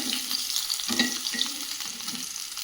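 Fish frying lightly in a small amount of oil, a steady soft sizzle with faint crackles and a few quiet stirring knocks, close and continuous with no talk.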